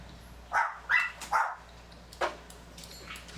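A dog barks in a short burst of about four sharp barks, close by, with an indoor background hum behind them.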